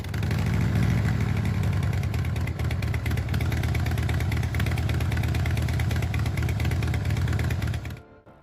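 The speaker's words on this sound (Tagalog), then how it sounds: "Ito rin ang patented na tunog ng tambucho ng Harley." A loud, lumpy Harley-Davidson V-twin motorcycle exhaust idles and rumbles close by for several seconds, then cuts off abruptly near the end.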